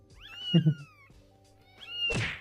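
Two loud, high-pitched kitten meows, one early and one near the end, separated by a quiet pause, with a low thump between them.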